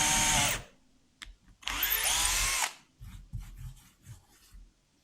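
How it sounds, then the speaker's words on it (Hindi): A Stanley drill-driver bores into plywood in two loud whining bursts, the motor spinning up and cutting, with a short pause between them and quieter handling clatter and rubbing after. "वुड पे ड्रिलिंग, प्लाईवुड पे ड्रिलिंग काफ़ी आसानी से हो रही है इस मशीन की मदद से"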